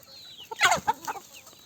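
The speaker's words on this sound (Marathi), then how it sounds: "ही कोंबडी खाली आपली कांदे फोडून या अशा पद्धतीने" A free-range village hen clucks while pecking at and eating onions, giving a short burst of several close, fairly loud clucks.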